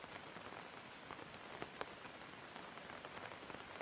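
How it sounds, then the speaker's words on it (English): Soft steady rainfall patters continuously, a dense hiss of drops with occasional slightly sharper taps, quiet and unbroken with no voices. "She likes the sound of the rain against her coat."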